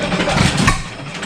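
A 7HP Stickney hit-and-miss engine running, a short burst of its low, throbbing exhaust chugs heard up close and fairly loud with no voices.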